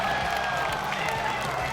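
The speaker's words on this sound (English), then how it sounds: "Crowd goes wild, and how could they not?" A poker tournament crowd at a WPT final table cheers and applauds in a dense, steady wash of clapping and voices.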